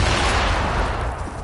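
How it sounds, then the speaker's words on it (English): Grenade blast in Fortnite, a loud dense explosive roar that fills the moment and slowly tails off over about a second and a half, alone with no talk. "chuck a nade down. That'll take care of him."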